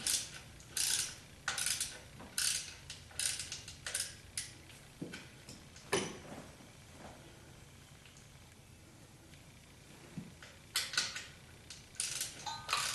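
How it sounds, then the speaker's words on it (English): Wrench ratcheting on a nylon-insert lock nut at the alternator of a 1976 Corvette, quiet bursts of clicks in short runs, then a lull before clicking resumes, close by. "It's one of those nuts with a nylon insert that keeps it from coming loose. That means you need a wrench pretty much the whole way."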